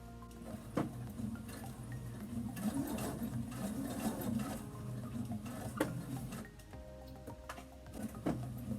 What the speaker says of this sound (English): So put your presser foot back down. Sew for a little bit here.